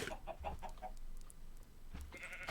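Chickens in a pen in a farming video game, heard as a busy run of clucks and squawks over steady background noise, with a louder burst near the end.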